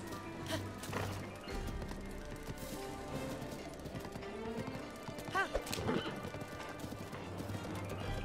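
A horse in Zelda Breath of the Wild gallops with rapid clip-clop hoofbeats and lets out loud neighs midway, over game music, with a few knocking thuds.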